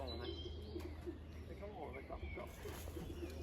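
Racing pigeons coo softly and chirp on arrival at the loft after an old-bird race, with a wing flap and someone talking over them.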